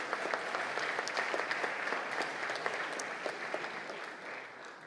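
An audience claps steadily and warmly through a festive evening gathering, a dense patter of many hands at moderate distance with no voices over it.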